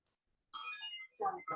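A mobile phone ringtone plays after a brief silence, a short bright melodic phrase followed by a second burst, moderately loud with no talk over it.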